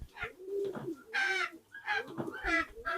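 Pigeons on a small farm where ten to twelve pairs are breeding coo in repeated soft, throaty phrases. Several birds overlap at close range, and there are brief rustles between the calls.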